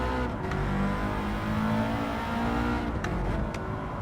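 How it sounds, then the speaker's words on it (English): A Subaru in Gran Turismo 7 revs hard and continuously, its raspy engine note loud and close throughout with no talking over it. "this Scooby sounds so much nicer than the Mitzi. It's got a real raspy noise to the engine."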